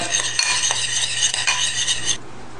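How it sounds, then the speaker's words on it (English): Spoon scraping and clinking around a bowl while a dry barbecue rub is stirred, a steady near scratchy rustle with small taps, ending abruptly. "That is my dry rub. I'm just going to mix it up."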